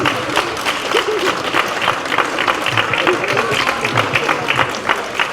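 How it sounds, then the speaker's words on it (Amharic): A room full of guests at a birthday celebration claps together, loud dense applause that carries evenly from start to finish with a few voices mixed in. "ሁላችንም አጨብጭቡላት"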